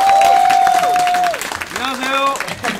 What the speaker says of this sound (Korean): 두 분께 박수 한 번.